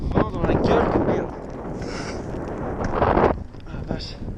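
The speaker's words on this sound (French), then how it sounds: "Vent dans la gueule de merde." Wind buffets a microphone while cycling outdoors on a long climb, with rumbling gusts that surge and ease, and someone speaks over it in bursts.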